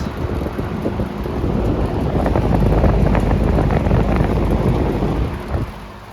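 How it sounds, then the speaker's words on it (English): A 1981 Lakewood P-47 electric fan with four riveted blades runs on a steady setting, a loud, constant rushing airflow drone that swells slightly midway, with no talking. "The grills are rattling."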